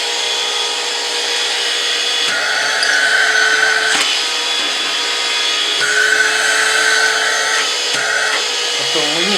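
An Aspiring Dust 2 cordless car vacuum cleaner runs with a steady, close whine for the full stretch, its tone shifting slightly as the suction changes, with no talking over it.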